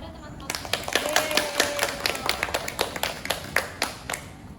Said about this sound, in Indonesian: Tepuk tangan dulu kepada teman-teman